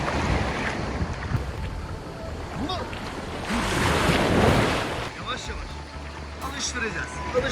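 Sea waves washing onto a beach with steady wind buffeting the microphone, swelling louder midway, while a dog is coaxed into the water; no clear splashing stands out.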